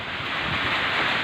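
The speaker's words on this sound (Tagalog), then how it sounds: "malakas ang hangin" Strong typhoon wind during Typhoon Ulysses roars as a dense, steady rush close to the microphone, loud and unbroken with buffeting noise and no voices.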